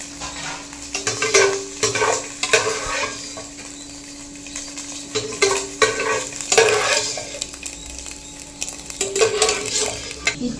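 Egg and masala frying on a hot tava with a spatula stirring and scraping the pan, a steady sizzle under bursts of metallic clatter, close and moderately loud, no talking.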